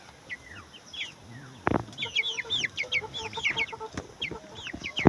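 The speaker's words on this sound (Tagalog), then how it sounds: "So 24 days na mga manok na ito." A flock of 24-day-old chickens clucks and peeps in quick, overlapping bursts close by, with a few sharper knocks mixed in among the calls.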